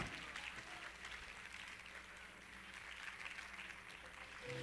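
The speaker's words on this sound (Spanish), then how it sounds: "Den un aplauso fuerte al Señor." A church congregation applauds during an evening worship service, a dense, continuous wash of clapping throughout, moderately distant and steady.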